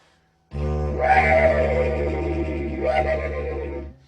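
A deep droning didgeridoo with rising, laughing whoops layered over the drone, imitating a kookaburra's call, sustained and fairly loud.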